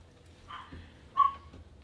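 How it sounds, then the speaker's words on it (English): A dog gives two short barks, the second louder and sharper, close by with a brief quiet gap between them and no talking. "Captain, I hear dogs barking."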